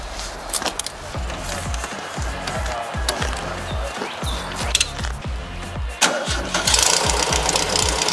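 A Volkswagen dune buggy sand rail with a broken throttle cable runs with a steady, thumping engine pulse that stays loud and close throughout, with brief louder bursts and a faint voice underneath.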